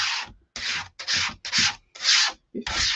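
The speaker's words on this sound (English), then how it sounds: "And you can use the paste scraper." A paste scraper spreads chalk paste across a stencil in six quick, rhythmic scraping strokes, each a close, rough rubbing burst separated by short pauses.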